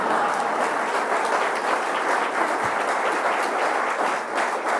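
Audience applause at the launch event of the Oregon Health Insurance Marketplace: a dense, steady clapping from a full room that holds at an even level for the whole stretch without a break.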